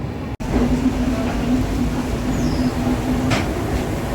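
A Vande Bharat train at Bengaluru Cantonment station, a steady close rumble and hum of the rolling train with a sustained tone, after a brief cut at the start.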